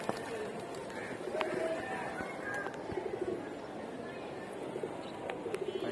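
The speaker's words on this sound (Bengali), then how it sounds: "আবার অন্য কবুতরগুলো আইছে।" Pigeons at a sky pigeon loft coo while bathing, low murmuring calls repeating every second or so, with some wing and water movement in the background and a voice talking over them.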